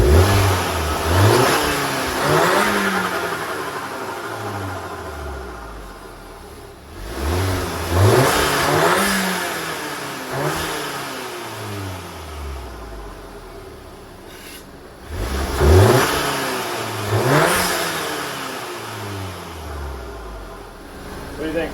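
With the hood open, a VW MK7 Golf R with an Integrated Engineering intake revs up three times, each rise sweeping up then falling back to a steady idle, loud and close.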